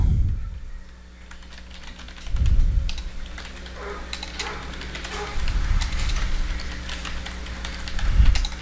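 Typing on a computer keyboard, rapid irregular clicks close by in several bursts with short pauses, no voices over it.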